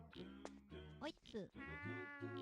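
A cat's meows sound in a tonal, game-like way in the video game Chulip, with a person speaking over them.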